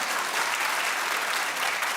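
A studio audience claps in a dense, even burst of applause that holds steady for a couple of seconds, close and fairly loud.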